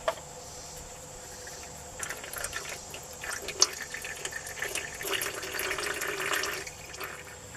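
Motor oil drains from a car's drain plug during a home oil change, a close, steady trickling pour with a few faint drips and clicks.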